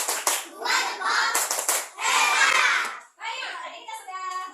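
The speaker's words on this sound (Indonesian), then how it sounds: "tepuk tangan untuk Delvia" Schoolchildren in a fourth-grade classroom clap in short, loud bursts with brief gaps, mixed with children's voices and chatter, the rhythm shifting into a patterned clapping game near the end.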